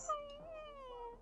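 A single drawn-out, gently falling cat meow from The Sims 4, clear and fairly soft, lasting about a second with no talk over it.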